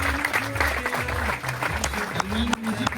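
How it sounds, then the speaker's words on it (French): An audience claps for a man working the sound desk at the back of a departure ceremony for the Umrah, a steady wash of applause running the whole time with voices mixed through it. "Je vais l'applaudir"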